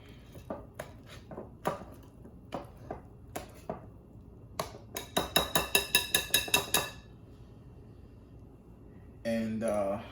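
Strawberry cupcake batter is mixed in a bowl: sharp spoon-on-bowl clinks, first spaced out, then a fast run of taps, ending with a brief scraping swirl; quiet and close, no talk.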